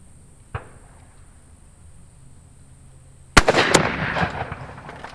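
A single loud, sharp shotgun blast fires at a clay target on a quail course outdoors, following a faint click and quiet wait, then trailing into a rumbling echo.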